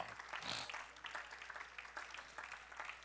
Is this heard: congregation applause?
yes